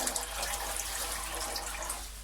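Water poured into a cooking pot for boiling macaroni, a continuous close splashing rush with no breaks, moderately loud and alone.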